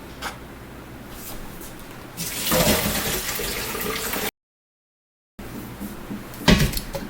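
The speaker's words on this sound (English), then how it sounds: "we're going to take our cucumber slices and drain the ice water from them" Ice water drains from cucumber slices being readied for sweet pickles, a rushing, splashing pour that starts after a quiet moment, briefly cuts out, then resumes with a clatter of a colander or bowl.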